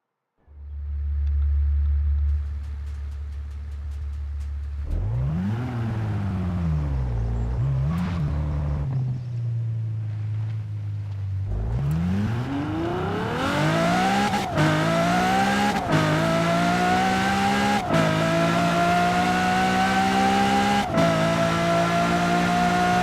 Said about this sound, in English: Well, there's the engine sound.